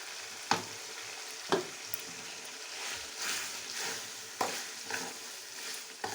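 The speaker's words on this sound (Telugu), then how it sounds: "ఇందా మిక్సీ పెట్టుకున్న మసాలాని ఇప్పుడు వేస్తున్నాము" Ground masala stirred into chicken gravy frying in a pan: a steady sizzle with several sharp clinks and scrapes of the spoon, up close and with no talking.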